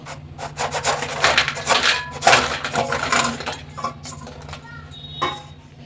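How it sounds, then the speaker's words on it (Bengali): Crispy fried flour snacks tumble and rattle onto a plate in a series of dry, scraping clatters, close and fairly loud, with brief pauses between pours. "এবার আমি এই প্লেটে ঢেলে নেব"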